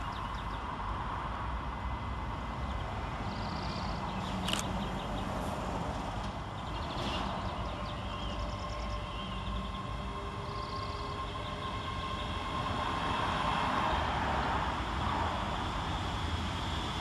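Two coupled Scotrail class 385 electric units on the Glasgow Central to Lanark service pull into Motherwell station, a steady broadband rumble with whining tones and a few sharp clicks building slightly louder toward the end, with no talk.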